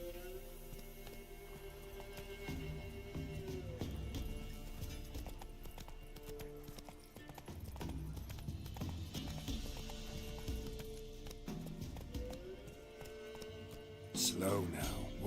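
Horse hooves clip-clopping in The Witcher 3: Wild Hunt video game, a quiet continuous trot of hoof beats under game music and ambience, with a brief louder clatter near the end.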